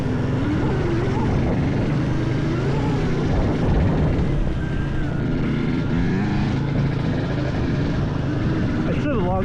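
An ATV engine revs off-road on a trail, rising and falling in a throaty drone that is loud and constant, with wind noise and a rider's voice mixed in over it.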